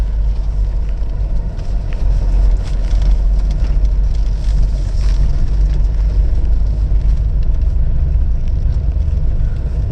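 An Audi 100 C3 diesel non-turbo Avant rolling over a bumpy field, with a steady low rumble of engine and road noise and soft knocks from the working suspension, loud and continuous throughout.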